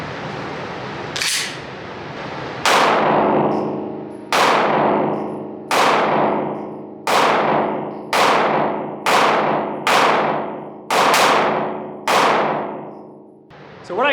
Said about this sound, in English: 10 rounds in, shoot these off now.